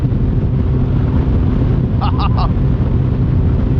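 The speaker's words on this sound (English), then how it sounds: "That wind is crisp." Cold, crisp wind buffets a fishing boat on Lake Guntersville, a steady low roar with no let-up. A few brief chirps break through the noise near the middle.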